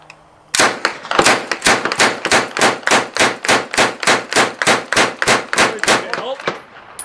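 An open-bolt machine gun fires one long, loud burst of about eighteen evenly spaced shots in a steady, rapid rhythm, close by, after a brief quiet start.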